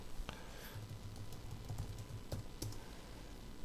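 Quiet, quick clatter of computer keyboard keys being typed, irregular taps close by with a soft background hiss.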